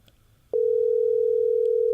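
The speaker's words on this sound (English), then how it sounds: "I think we're hearing some ringing." A WhatsApp call connects to a phone line, and after a brief quiet gap a loud, steady electronic telephone tone starts and holds unbroken to the end.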